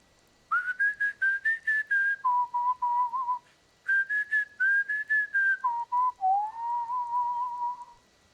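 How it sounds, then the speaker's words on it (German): A bard in the video game Skyrim finishes his song by whistling a melody alone, in two bright phrases of quick repeated notes that drop to lower held tones, the second phrase ending in a long sustained whistle. "Ich habe es auch noch nie gehört, dass er das Lied mit einem Pfeifen beendet."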